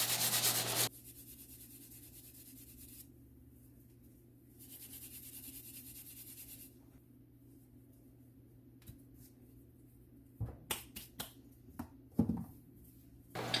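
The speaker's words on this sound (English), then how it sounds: "I'm literally just scraping all of that coarse outer layer off of the horseradish" Knife scraping the coarse outer skin off a horseradish root, soft close rasping strokes in a few sustained bursts, followed by quieter scattered taps and scrapes.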